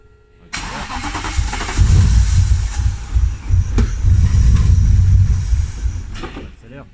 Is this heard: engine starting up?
yes